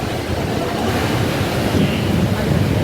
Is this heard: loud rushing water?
yes